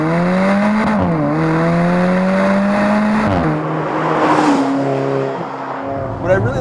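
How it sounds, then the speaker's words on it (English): A 2015 Alfa Romeo 4C with a 1.7 liter direct-injected single-scroll turbo engine accelerates hard, loud rising engine tone through gear changes with turbo whoosh, under someone talking. "Alfa Romeo has embraced the sound of the turbocharger because it adds so much more in terms of theatrics to acceleration"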